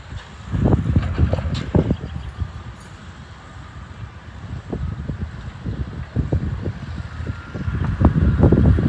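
Strong wind gusting outdoors near Sullivan, Indiana, roaring in waves against the microphone, swelling around the start and again near the end, with no one speaking.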